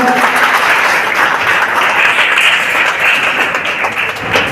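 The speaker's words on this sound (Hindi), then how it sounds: "जोरदार तालियों से स्वागत।" An audience gives a loud, warm round of applause at a public talk, a thick, continuous patter of many hands with no voices over it.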